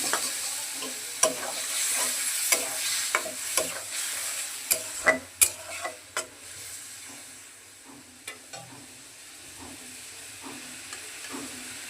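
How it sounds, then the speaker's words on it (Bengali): Curry frying in a pan with water added, giving a steady soft sizzle and hiss under repeated scraping stirs and clinks of a spoon, close and moderately quiet with no talking. "এখন দিয়ে দেবো পরিমাণ মতন জল ঝুলের জন্য"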